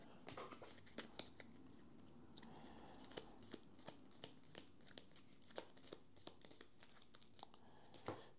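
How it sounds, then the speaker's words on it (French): A deck of game cards being reshuffled by hand, a quiet series of crisp riffling snaps and taps in an uneven rhythm, close and soft with no talk over it. "Je vais remélanger mon deck."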